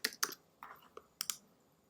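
Quiet, close typing on a computer keyboard: a handful of crisp key clicks in short irregular clusters, with brief pauses between strokes.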